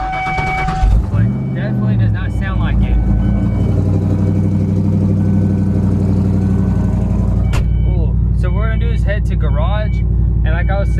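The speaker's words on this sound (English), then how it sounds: "Okay, so you forgot what my car sounds like." Engine of a convertible car, its soft top damaged by hail, idling steadily in a garage, a continuous low rumble under someone talking throughout.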